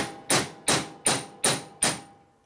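Five evenly spaced, sharp metallic hammer blows, driving a valve guide into a 1950 panhead cylinder head, each strike close and crisp with a short ringing decay.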